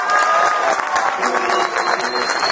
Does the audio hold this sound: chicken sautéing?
no